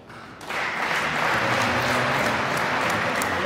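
A wedding crowd in a church claps for the bride and groom, applause starting abruptly and swelling into steady, dense clapping that continues throughout.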